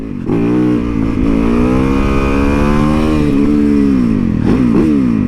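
A supermoto motorcycle engine revs hard and close, its pitch climbing and dipping in throaty bursts, loud and continuous throughout.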